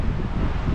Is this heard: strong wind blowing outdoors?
yes